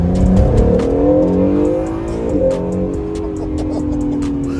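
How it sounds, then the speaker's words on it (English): An Acura NSX accelerates hard with rising engine tones and a turbo blow-off valve, heard from inside the car as gears shift, with tire noise and occasional speech over the engine. "I don't know if y'all heard that blow-off valve though."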